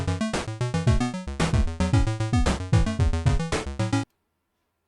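Pico-8 chiptune with drum, bass and melody tracks playing together, a busy rhythmic loop of punchy kicks and snares under buzzy bass and lead notes, loud and steady before cutting off abruptly into silence.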